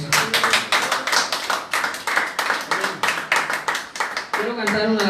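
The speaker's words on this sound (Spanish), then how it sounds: "Dale un aplauso." Church congregation clapping during a Sunday morning service, a steady run of close, dense hand claps that gives way near the end to voices and a hint of music.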